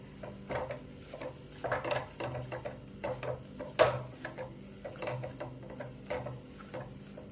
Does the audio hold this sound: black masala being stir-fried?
yes